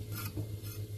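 Gram flour heats in a pan over a medium flame, giving a brief, quiet stir with a light scraping swish and faint sizzle.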